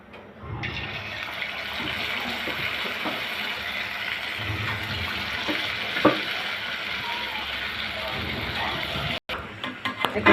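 Palm fruit (taal) fritter batter fries in hot oil with a loud, continuous bubbling sizzle that lasts throughout, with a few soft clinks near the end.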